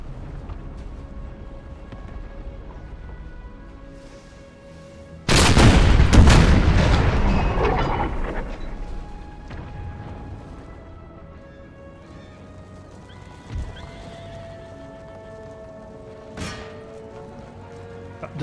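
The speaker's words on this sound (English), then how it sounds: "Let's watch the guns fire," Artillery guns fire in the Empire Total War battle game: a loud, sudden cannon boom opens a long rumbling roar that slowly fades, then sharper single shots follow some seconds later against a quieter battlefield background.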